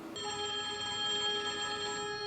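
A telephone rings in a Batman TV episode set in a park, a bright sustained bell-like ring heard alone and fairly clear for a couple of seconds.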